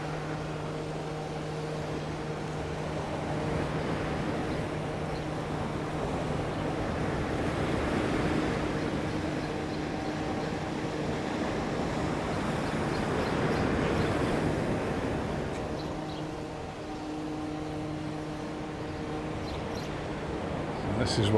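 Rough sea surf breaking on a sandy beach at San Telmo (Sant Elm), Mallorca, a steady broadband roar swelling and easing over about twenty seconds, with faint tonal hums and occasional low voices beneath it.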